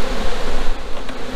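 Honey bees buzz steadily at an opened beehive during a frame inspection, a dense, continuous hum close by with no talking.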